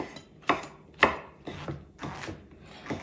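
Knife chopping fresh oyster mushrooms on a cutting board, a run of about six distinct, fairly close chops spaced roughly half a second apart, each a crisp crunchy strike, with no talking.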